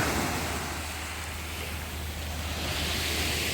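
Black Sea waves roll onto a beach at Odesa, a steady surf wash mixed with wind rumble against the microphone, continuous and fairly even in level, with no speech.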